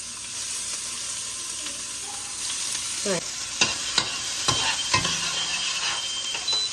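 Ginger and garlic frying in oil for chicken cutlets, a continuous bright sizzle broken by several sharp scraping strokes of a spoon stirring the pan.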